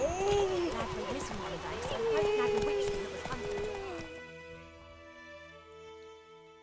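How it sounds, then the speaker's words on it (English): Horse hooves clip-clopping on a road in the video game Witcher 3, a quick steady rhythm of hoofbeats mixed with game music and other game sounds, with a voice talking over much of it. "There's obviously horses on the road."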